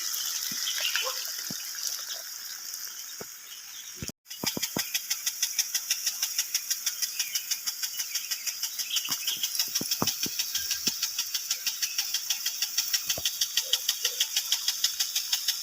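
An irrigation pump engine chugs beside a potato field while its water rains down in a rapid, even pulsing rhythm that continues after a brief cut near the start.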